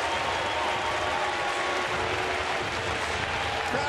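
At Rogers Centre during a Blue Jays game against Philadelphia, a large baseball crowd roars and applauds after a home run, a loud, continuous wash of cheering that holds steady throughout.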